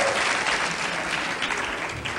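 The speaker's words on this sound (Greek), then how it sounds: "Πάμε ένα γερό χειροκρότημα και για τις δύο ομάδες." A Greek television game show studio audience applauds both competing teams, a dense, steady clapping that fills the whole short stretch without pause.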